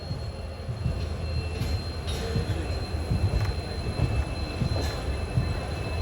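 A superfast express train rolls along the rails, giving a steady loud rumble with faint wheel squeal and rhythmic clatter, heard alone from on board.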